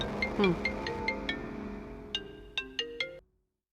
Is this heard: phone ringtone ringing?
yes